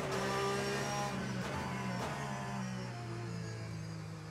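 Race cars accelerating in the simulator game Le Mans Ultimate, a pack of engines droning and rising in pitch together, loud at first and easing slightly as they pull away, with no talk.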